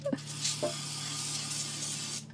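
An oil spray bottle hisses in one long continuous burst, close up in a kitchen, after a couple of short clicks, over a faint low hum.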